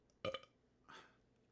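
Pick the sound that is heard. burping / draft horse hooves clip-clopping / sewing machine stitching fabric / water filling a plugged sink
burping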